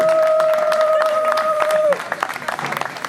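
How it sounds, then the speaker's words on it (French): Applause breaks out for a couple at a civil and customary wedding, a short burst of clapping from a crowd beneath a held tone that cuts off partway, leaving scattered claps. "Applaudissons pour le couple, s'il vous plaît."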